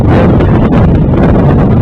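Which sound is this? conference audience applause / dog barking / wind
wind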